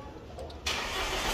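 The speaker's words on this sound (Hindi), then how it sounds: "तो मैं गाड़ी को एक बार स्टार्ट करता हूँ।" A Mahindra XUV500 SUV with a check-engine light fault cranks briefly and then catches, settling into a loud, steady engine run right after the start.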